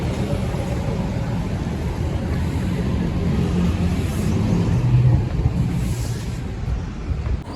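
Steady low engine rumble of a Daewoo intercity bus idling at the Faisalabad stop, continuous and close, with broadband noise and no clear talk over it.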